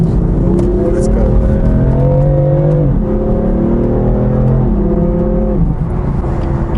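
A BMW M4 engine revs hard and climbs through the gears, the pitch rising in repeated sweeps with brief drops at each shift, loud and close.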